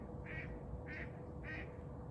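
Three evenly spaced duck quacks come from some distance, each short and nasal, over a steady low background hum in a quiet setting.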